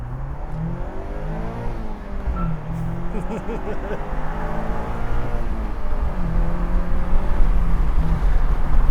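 A 2025 convertible car accelerates hard, its engine note climbing and dropping as it shifts through gears, the road and wind roar building steadily and loud throughout.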